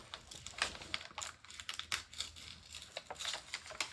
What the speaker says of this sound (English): I'm just gonna kind of slowly rip the glue